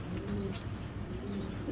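A female pigeon coos in low, soft phrases twice in quick succession, fairly close, over a steady background rumble.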